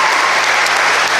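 An audience at a presidential candidates forum in Selma claps steadily, a loud, even wash of many hands with no break in the short stretch.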